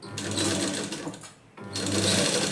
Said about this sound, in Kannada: ಈ ಥರ ಸ್ಟಿಚ್ನ ಹಾಕ್ಕೊಂಬನ್ನಿ.